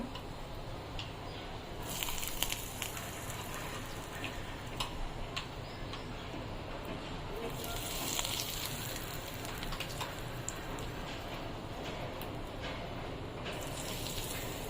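Hot tempering poured over brinjal gives a steady, dense crackling sizzle that runs continuously at an even level with tiny pops scattered throughout.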